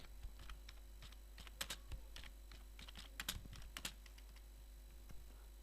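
Typing on a computer keyboard while writing C++ code: scattered quick key clicks in an irregular rhythm over a steady low electrical hum, close and fairly quiet, with no voice.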